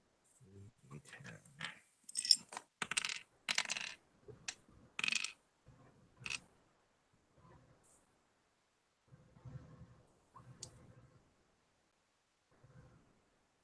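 Dice clatter and roll across a table during a live tabletop role-playing game, several sharp bursts of clicking tumbles early on, then quieter scattered rattles between stretches of speech.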